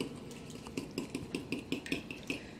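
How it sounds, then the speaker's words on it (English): A whisk beats sour cream into chocolate cake batter in a bowl, with quick rhythmic taps and scrapes against the sides that repeat roughly every third of a second, close and fairly soft. "Then give this a whisk."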